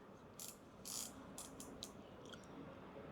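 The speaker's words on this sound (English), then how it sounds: "So for 20 clicks, the number on the dial is number 4." Grind-setting dial on a Bomber Blade R3 manual coffee grinder turned in steps: a quick series of small, sharp ratcheting clicks, irregularly spaced, close and fairly quiet against a faint background hiss.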